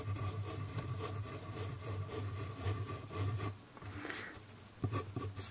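A Pilot Kakuno fountain pen moves across paper near the microphone in repeated scratchy strokes that pause briefly partway through and then resume as a few short, sharper marks, with no talking.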